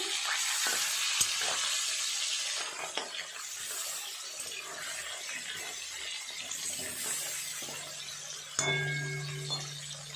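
Bhetki fish fillets frying in a pan of oil, a steady close hiss of sizzling running throughout, with occasional light clinks and a brief stir or shift near the end.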